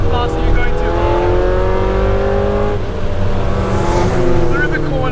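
A K24-swapped Honda CRX drives hard on damp roads, its engine note rising and holding in steady harmonic bands with tire hiss underneath, loud and continuous throughout while someone talks over it.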